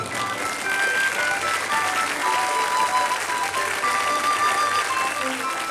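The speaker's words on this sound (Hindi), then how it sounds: "एक बार फिर से इनके लिए ताली हो जाए।" An audience applauds young performers after a school play, a steady, sustained patter of many hands over a faint hum of music or tones in the background.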